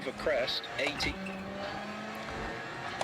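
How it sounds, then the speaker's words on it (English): A rally car is driven carefully at moderate pace in the Assetto Corsa Rally video game, its engine humming and shifting with brief tire noise, while a person talks over it. "I'm driving a bit slow because I don't want to crash and have to restart"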